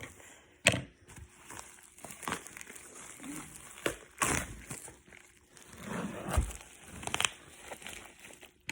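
Crinkly tearing and ripping of paper or plastic in several bursts, close up, with handling noises and quiet pauses between.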